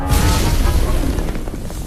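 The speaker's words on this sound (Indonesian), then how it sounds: "Hasil sulingannya meledak" A loud explosion bursts out at the start, then a deep rumbling roar fills the rest of the moment.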